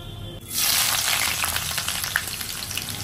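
Mutton frying in mustard oil in a wok: a loud, steady sizzle that bursts in suddenly and holds throughout, with faint stirring crackles and no talk.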